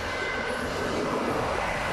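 A freight train loaded with cars passes near Ksar El Kebir, Morocco. A loud, continuous rumble and rattle of rolling rail wagons fills the whole stretch without a break.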